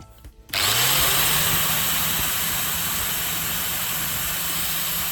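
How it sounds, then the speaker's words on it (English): An angle grinder spins up and grinds steel, shaping a hexagonal pipe-expanding tool, starting abruptly after a short quiet moment and then holding a steady, loud, high-pitched whine with continuous rasping. "Just a bit more grinding and it's finished."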